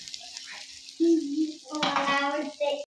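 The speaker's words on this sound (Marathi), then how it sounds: "आता ही मा मसाला भाजून झाला आता ही पण मसाला भाजूया" Spice masala roasting in hot oil with curry leaves for a samosa filling, a steady close sizzle that swells into louder crackling and spitting as the pan is stirred.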